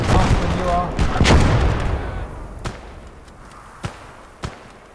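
Gunfire and anti-tank cannon shots ring out in a Kelly's Heroes World War II battle game: several sharp blasts, loud at first, then a few separate cracks that fade away amid rumbling battle noise.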